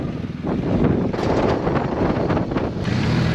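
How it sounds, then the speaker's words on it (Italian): Strong wind roars across the Col de l'Iseran, a 2,770-metre mountain pass, buffeting the microphone with loud, continuous broadband rushing that swells and gusts without a break. "con un bel vento sostenuto, Colle dell'Iseran. Il vento c'è ed è notevole"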